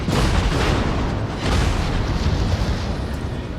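Secondary guns of the battleship USS Massachusetts firing at a destroyer in World of Warships, a continuous heavy roar of overlapping booms and blasts, loud and dense with no clear gaps.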